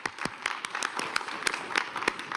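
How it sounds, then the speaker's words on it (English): Warm applause from an audience at an ASEAN gathering after a Prime Minister's address, steady clapping with sharp individual claps standing out, moderately distant and continuous throughout. "Warm applause."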